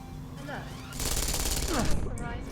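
Gunfire aimed at the player in the video game Deus Ex: Mankind Divided, a steady burst of rapid shots running for about a second under game sounds, with a speaking voice heard faintly.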